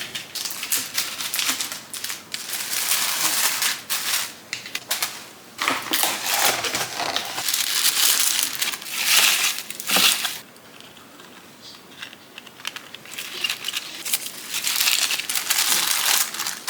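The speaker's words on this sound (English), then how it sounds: "I'm gonna go for this rainbow tissue paper" Rainbow tissue paper is crinkled and crumpled up close while handmade polymer clay orders are packed, with dense bursts of rustling and crackling that come in waves with brief lulls between.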